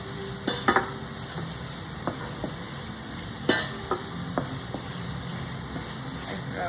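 Steady low sizzle of food frying in a pan, with a few sharp clinks and scrapes of a utensil stirring at irregular intervals.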